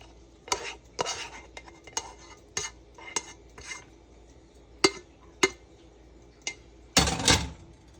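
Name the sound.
kale greens being added and stirred in a pan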